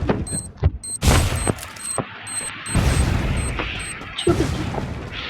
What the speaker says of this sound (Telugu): బాంబు వేసుకుంటున్నారు పాపం